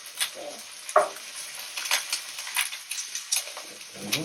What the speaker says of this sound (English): stir to achieve a golden brown crust and to avoid gnocchi sticking to the pan